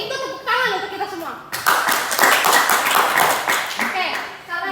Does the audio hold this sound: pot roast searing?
no